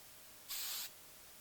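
A single short burst of hairspray, a close hissing spray lasting under half a second against quiet room tone.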